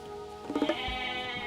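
Goats bleat in Age of Mythology, a short cluster of quick, close bleats rising over a steady background of game ambience and music.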